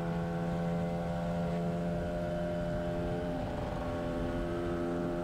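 A 1982 Yamaha RD 250 LC two-stroke motorcycle cruises at steady throttle, its engine a continuous, fairly loud drone with stable harmonic tones that dip slightly as the bike begins to slow; no voices.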